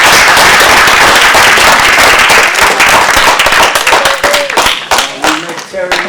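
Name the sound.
audience applause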